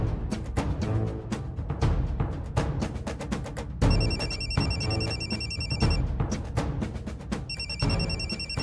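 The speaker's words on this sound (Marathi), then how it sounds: "सुजित, मणीचा फोन आहे." A telephone rings in a Marathi TV serial scene, a loud repeating electronic ringtone with bright bursts of trilling tones over a driving musical backing, with no voices.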